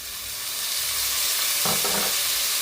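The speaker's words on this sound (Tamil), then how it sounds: "இப்போ இதில் வந்து நாங்கள் கட் பண்ணி வச்சிருக்கிற இந்த தக்காளி பழத்தை இதில் போடுவோம்." Chopped tomatoes are added to onions sautéing in a pan for Sri Lankan devilled prawns, bringing a loud, dense sizzling hiss that swells and then a short burst of stirring.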